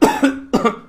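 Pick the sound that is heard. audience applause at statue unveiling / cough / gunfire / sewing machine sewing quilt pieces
cough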